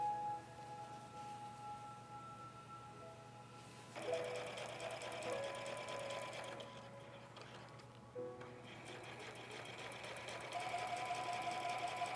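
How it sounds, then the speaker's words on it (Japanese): A sewing machine stitches patchwork steadily with a fast mechanical whir and rapid ticking, briefly pausing and restarting, alone without any talking. "そしてミシンで順番に縫います。"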